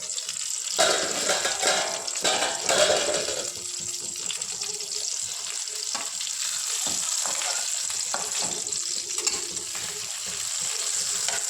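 Fish cooking in a covered pan over a low gas flame, a soft continuous sizzle and crackle with occasional light clinks and stirring noises, fairly quiet and close.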